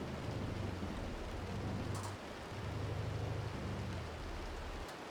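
Heavy torrential rain in a storm-chasing video game (Outbrk), a steady loud broadband downpour with low rumbling bands, dipping briefly around the middle, with no voices.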